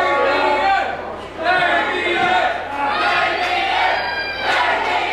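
A wrestling crowd roaring and shouting during a close match, a dense continuous wall of voices with surges of chanting and cheers, loud and sustained throughout.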